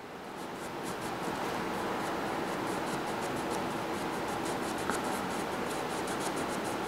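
A toothpick rubs into the corners of a mold during polishing, giving a continuous close scratchy scraping with rapid back-and-forth strokes, no speech.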